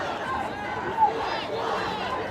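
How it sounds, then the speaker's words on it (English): Crowd chatter from protesters mingling with police officers on a downtown street at night, a steady murmur of many overlapping voices with no single speaker standing out. "A lot of police officers mingling in the crowd,"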